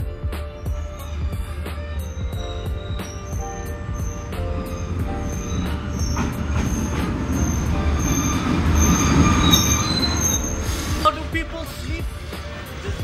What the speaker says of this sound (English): Okay, so, the train is arriving.